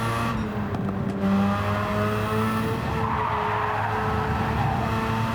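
Tires squeal and skid in Gran Turismo 7, a steady sustained screech over a droning race car engine with shifting tonal bands, loud and continuous throughout with no talking.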